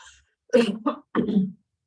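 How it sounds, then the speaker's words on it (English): A few close, harsh coughs in quick succession, then silence. "Excuse me whilst I cough."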